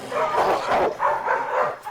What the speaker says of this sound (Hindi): सर वहाँ दो बीमार कुत्ते हैं सर।